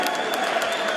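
Brief burst of crowd applause at a 2017 boxing match between Jason Easton and Jamoye, a dense, steady clatter of clapping from a large audience.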